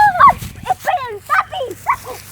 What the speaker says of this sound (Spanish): Es la perrita la que le dije recién.